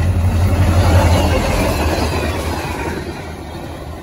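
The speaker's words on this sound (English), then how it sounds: "here's the CSX train. I think it might be the local" A CSX local train, apparently pulling just one car, rumbles past close by, loud at first with a low engine throb, then gradually fading as it moves away.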